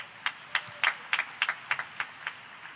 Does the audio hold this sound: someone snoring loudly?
no